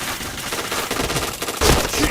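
Rapid automatic gunfire from a shooting video game, a dense run of cracking shots lasting about two seconds, loud and close, with a heavier burst near the end.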